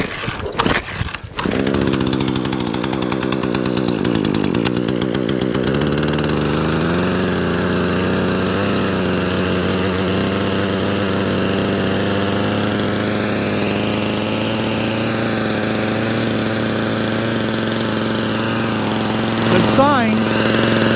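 A repaired chainsaw, brake on, pulls over and catches, then runs steadily at a high idle close by, with a brief burst of revving near the end.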